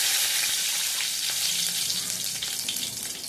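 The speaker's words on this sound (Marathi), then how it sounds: "पाव चमचा मोहरी घालायची आहे, जिरं घालूया, कढीपत्ता घालूया आपण" Mustard seeds, cumin and curry leaves sizzle and crackle in hot oil for a bean stir-fry, a dense close hiss with small pops throughout, fading slightly toward the end.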